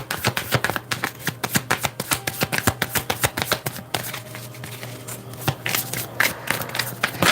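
Tarot cards being shuffled by hand in a steady, rapid rhythm of crisp riffling flicks, close and continuous throughout, with no talking.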